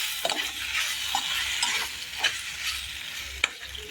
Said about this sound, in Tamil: இதையெல்லாம் நல்லா மிக்ஸ் பண்ணிக்கலாம்.